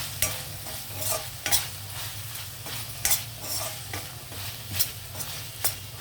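Onion sizzles in a pan with chicken, a steady hiss of frying broken by periodic sharp scrapes as the pieces are stirred, no voices.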